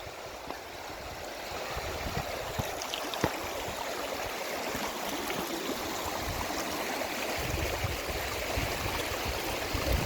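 A flowing stream in a Lapland valley near Sitåjaure, crossed on the way to the main river, rushes steadily and close by, with continuous broadband water noise and no talk.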